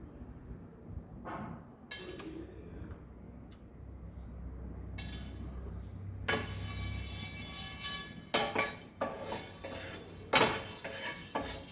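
Twenty-five peppercorns dry-roasted in a pan for Goan garam masala: quiet stretches broken by scattered rattles and metallic clinks of spoon and pan, growing busier toward the end.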